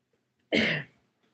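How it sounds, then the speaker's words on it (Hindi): One short, harsh cough, close and abrupt, standing alone in near silence. "हमरे खांसी आवे लागत है।"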